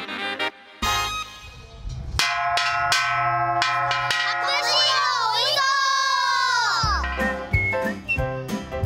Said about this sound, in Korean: 밥 시간을 알려주는 고마운 종소리를 따라